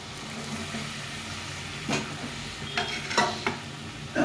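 Soybean chunks dropping into a frying pan, giving a faint, low sizzle with a few brief scraping and clattering bursts near the end.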